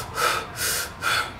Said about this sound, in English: So the first thing you kind of do is just kind of get a breath going.